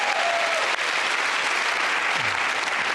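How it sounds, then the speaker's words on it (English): A studio audience at a British comedy panel show bursts into full, close applause that holds steady for a few seconds, thick and even, with a faint voice briefly underneath. "Give me a round of applause"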